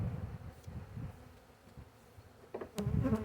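A low, steady honey bee buzz hums through the clip, rising a little louder near the end, with faint clicks and rustles around it.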